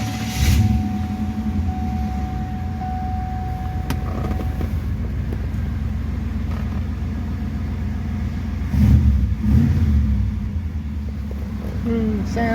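Truck engine with a newly fitted air cleaner and muffler, idling and revving in a steady low rumble, with a brief louder rev near the end.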